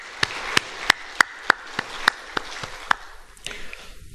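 A church congregation clapping in unison during a worship service: crisp, evenly spaced claps in a steady rhythm over a quiet room, fading into looser scattered noise at the end.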